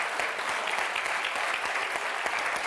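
A studio audience at a French TV game show applauds contestant Marie, a steady wash of clapping that lasts about three seconds with no voices over it.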